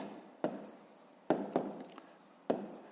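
Pen or marker writing out a fifth-grade math exercise solution: a few sharp tapping strokes against steady scratchy rubbing, close and quiet, with no voice.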